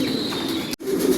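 Racer pigeons coo softly and steadily in a loft, a low repeated murmur with a brief silent break near the end and faint higher chirps.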